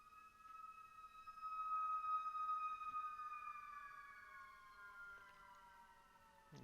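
An ambulance siren sounds outside, a long wailing tone that slowly falls in pitch. It is distant and faint, swelling a little louder and then fading, with no talking over it.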